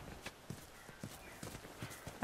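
Steady horse hoof clip-clops in an even walking rhythm in the video game The Last of Us Remastered, close and fairly loud, with soft background ambience and no talking.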